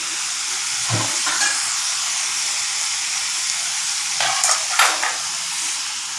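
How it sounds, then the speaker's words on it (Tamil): Mutton varuval frying in a pan as the meat's cooking water is poured in, giving a steady close sizzle and hiss with a couple of brief louder bursts. "இப்போ இறச்சி வேக வச்ச தண்ணியை நான் இப்போ ஊற்ற போகிறேன்."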